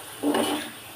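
Onions frying in hot oil in a pan, a brief burst of sizzling and stirring that swells and fades, then a sharp scrape at the end.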